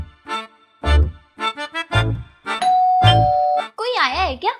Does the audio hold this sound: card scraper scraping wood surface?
no